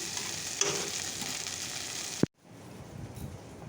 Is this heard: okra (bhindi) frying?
yes